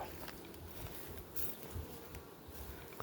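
Honeybees at a beehive make a steady, dense buzz that fills the whole stretch, with small swells in loudness as insects pass close by.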